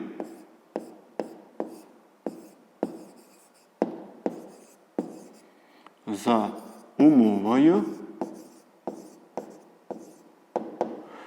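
Pen or chalk strokes writing out an equation for a fifth-grade math word problem: a steady run of short, close tapping and scratching marks, with a brief stretch of speaking in the middle.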